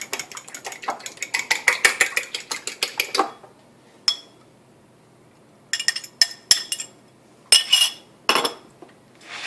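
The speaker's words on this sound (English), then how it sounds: "I'm going to start with my egg, and you want to lightly beat that before you add it" A fork beats an egg lightly in a bowl for cauliflower pizza crust, a fast run of crisp clinks against the dish followed after a pause by a few shorter bursts of tapping.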